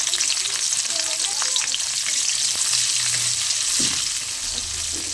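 Chopped onion and green chili fry in a pan with dry chili, bay leaf, cinnamon and cardamom for a prawn and jackfruit curry, giving a steady bright sizzle with occasional stirring scrapes and soft clinks, alone and close.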